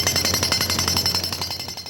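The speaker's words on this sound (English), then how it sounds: "a little early morning jackhammering never sounded so good." Jackhammer breaking up pavement to repair potholes in the early morning, a rapid, steady percussive hammering close by that holds its pace and loudness throughout, with no voices.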